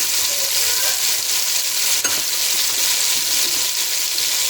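Flour sizzles steadily in melted butter over low heat while being stirred continuously, a bright, even frying hiss with faint scraping throughout.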